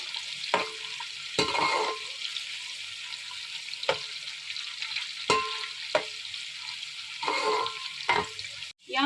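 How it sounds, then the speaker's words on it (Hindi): Onions sizzle in hot oil in a pot, a steady close frying hiss broken by repeated scraping stirs and clinks of a spoon. "इसमें प्याज शामिल कर देती हूँ। प्याज को हम लाइट गोल्डन कर लेते हैं।"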